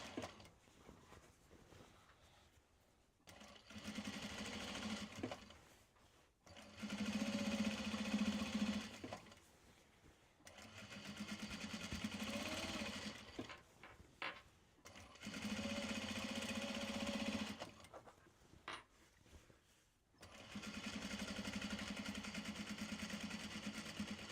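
A sewing machine top-stitching a tote bag in white thread, running in several bursts of a few seconds each with short pauses between, a steady mechanical whir at moderate level and no talk.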